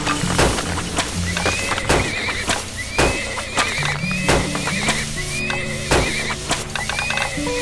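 Horse neighing in a video game, with repeated whinnies over steady clip-clop hoofbeats and ratcheting mechanical clatter, loud and continuous with no talk.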